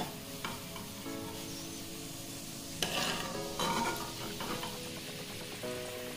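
Golden fried onions being lifted out of hot oil for chicken biryani, a steady close sizzle with soft scrapes and stirring clinks throughout, a few sharper spoon knocks standing out.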